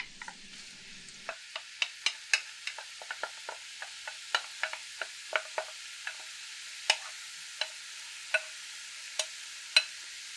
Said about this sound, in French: Je place ma viande dans une marmite que j'ai préchauffée sur un feu moyen.